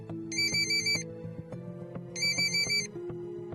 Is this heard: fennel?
no